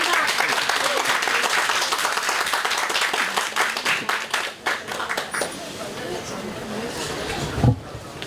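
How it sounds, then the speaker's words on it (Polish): An audience at a Polish festival talk on normobaria, Święto Niezapominajki 2019, breaks into dense, steady applause that thins out around the middle before a louder final burst of claps. "Brawa pan, brawa, proszę państwa, brawa"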